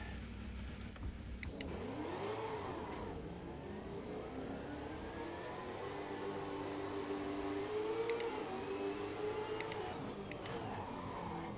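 In the Assetto Corsa racing game at Brands Hatch Indy on super soft tyres, a race car engine drones and rises in pitch as it revs through the gears, steady and prominent with brief clicks on gear changes.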